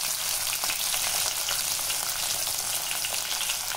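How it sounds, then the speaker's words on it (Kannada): Onions hitting hot oil in a pan for tomato chutney, after fenugreek seeds have browned, give a dense, steady sizzle that stays loud and even throughout, close up with no voices. "ಈಗ ಈರುಳ್ಳಿ ಹಾಕೋಣ."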